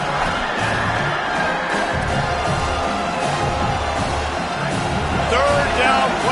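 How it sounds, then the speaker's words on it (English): A football stadium crowd at fever pitch during a third-down play in the red zone roars and cheers continuously, a dense wall of sound with a whistle-like rise near the end. "this crowd is at fever pitch"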